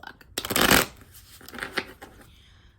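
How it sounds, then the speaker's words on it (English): A deck of playing cards being shuffled close up: one loud riffling burst, then several shorter softer riffles and taps, with faint talking now and then. "Shuffle a little bit more."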